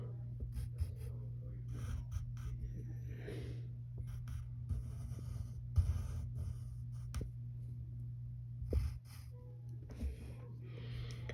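Pencil strokes on paper while sketching a cartoon superhero's hand and thumb, soft scratchy scribbles in short irregular bursts close up over a steady low hum.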